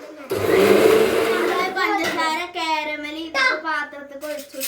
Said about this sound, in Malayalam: അപ്പം നമുക്കിനി മിക്സർ ജാർ അടിച്ചിട്ട് കാണിച്ചു കാണിച്ചു തരാം